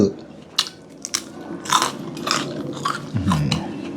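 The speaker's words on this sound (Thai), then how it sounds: "เคี้ยวข้าวไป" Close crunchy biting and chewing of food, with almonds among the dishes at a home meal, in irregular bites and jaw movements with faint clinks of dishes, no speech.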